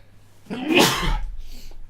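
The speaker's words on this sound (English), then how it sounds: "I'm just going to sneeze, so I'm just going to warn you." A single sneeze bursts out sharply, preceded by a quick intake of breath, then fades into quiet.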